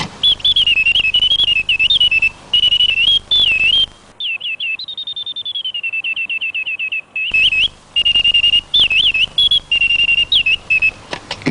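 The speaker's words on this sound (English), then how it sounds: "the bird's trill is produced on the penny whistle principle, with wind from a tiny pair of clockwork-operated bellows" A clockwork automaton bird trills through a penny whistle blown by tiny clockwork-operated bellows. Loud, close, warbling whistle phrases repeat with brief gaps, then a softer steady run of quick trills before the loud warbling returns.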